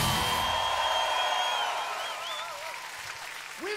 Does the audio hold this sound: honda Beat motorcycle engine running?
no